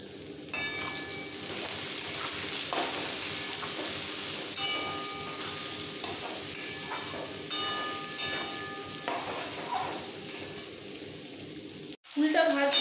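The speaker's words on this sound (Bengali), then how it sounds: "দেব হলুদ পাউডার 1 চামচ। এবার একটু হালকা ভেজে নেব।" Jujube (kul) fruit fries in oil with salt and turmeric powder for pickle, giving a steady close sizzle with occasional stirring scrapes and clinks that cuts out for a moment near the end.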